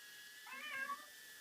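A cat meows once, a drawn-out wavering call of moderate loudness rising out of steady low background hiss, with no talking.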